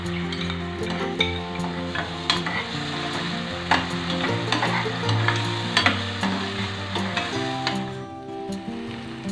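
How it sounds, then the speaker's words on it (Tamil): Ginger-garlic paste and onions sautéing in a pan while the mint rice dish is made, a steady close sizzle and frying hiss with repeated soft stirring scrapes throughout, no talking. "இஞ்சி பூண்டு பேஸ்ட்டையும் போட்டு இல்லை பச்சை வாசம் போக நிலையும் நல்லா வதக்கிக்கிடுவோம்."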